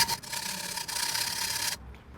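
Rapid rasping back-and-forth sawing on a wooden arrow nock, close up and continuous for nearly two seconds, then stopping abruptly.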